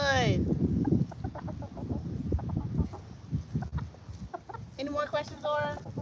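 Silkie chicken after a bath giving soft, irregular clucks and short calls close by, interspersed with a person talking, a sharper higher call near the end.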